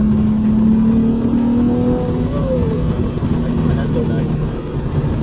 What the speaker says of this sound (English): You guys can probably hear the exhaust noise stepping a little bit.